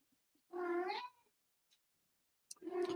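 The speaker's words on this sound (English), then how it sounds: "The cat agrees." A domestic cat meows twice, close and clear: a drawn-out call, then a quiet gap, then a second meow starting as the clip ends. No other sound is heard.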